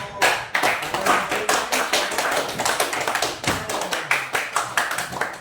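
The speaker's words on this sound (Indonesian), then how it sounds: "Ya, kita berikan aplaus untuk" A classroom of students applauds, a dense burst of many hands clapping in quick, uneven rhythm that carries on steadily for several seconds at close range.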